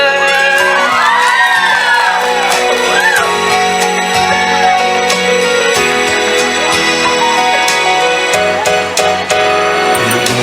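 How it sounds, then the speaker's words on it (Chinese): A large live crowd at an outdoor concert in Qingshui, Taichung, cheers and claps loudly, with whoops and shouts rising over the music in a continuous dense roar. "给自己一个掌声"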